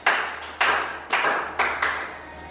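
A church congregation claps hands in unison during a Sunday service, five sharp, loud claps in a steady rhythm about half a second apart, over a faint low hum.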